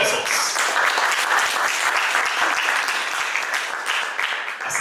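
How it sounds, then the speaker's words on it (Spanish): An audience at a panel event on natural gas and the energy transition claps steadily, a dense wash of applause that holds even and loud throughout. "Fuerte los aplausos."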